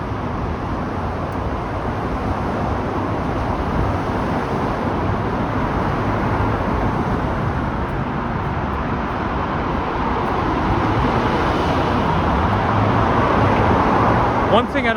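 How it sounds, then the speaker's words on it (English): Car traffic echoes loudly beneath a railway bridge carrying a rail corridor on St. Clair Avenue West in Toronto's Stockyards neighbourhood, a dense, continuous roar that swells toward the end. "when the cars run through, it echoes, and it gets really loud"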